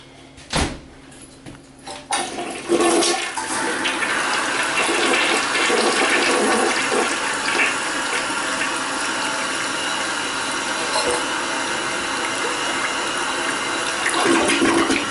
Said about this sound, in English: You gotta hold the handle down for it to flush.